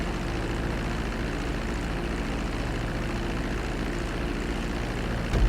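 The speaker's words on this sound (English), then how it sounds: "reducing the plane's altitude gradually so you're just above the runway as you approach" Steady, even drone of a propeller airplane engine in Grand Theft Auto V as the plane descends just above the runway on approach to land, a continuous low hum with no voices.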